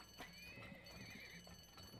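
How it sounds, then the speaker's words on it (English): Donkeys in the oil-drilling video game Turmoil give a short braying whinny over clip-clopping hoof sounds. The sounds are faint and quick, with no speech. "Donkeys, that's a problem."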